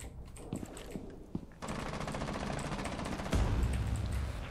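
Rapid automatic gunfire in the tactical shooter Rainbow Six Siege, several sustained bursts of fast shots at moderate level with a few isolated single shots before them, no talking.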